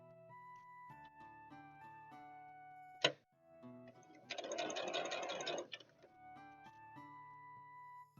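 A sewing machine whirs in one steady burst of about two seconds, just after a sharp click, set against soft continuous background tones.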